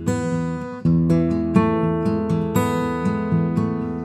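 Acoustic guitar plays a finger-style folk picking pattern, with plucked notes rolling in an even rhythm over ringing bass strings, close and clear, unaccompanied and without speech.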